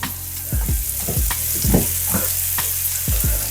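Chicken and bok choy frying in a pan, a steady close sizzle broken by repeated thumps and scrapes of stirring at an uneven rhythm.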